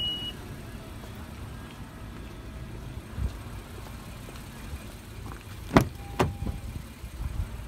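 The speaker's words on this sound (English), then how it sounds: "Hear two beeps, now it's set for that." Two short electronic beeps confirm the memory seat setting in a 2018 Honda Odyssey Touring, sounding close together over a quiet car interior hum, after a stretch of low background noise.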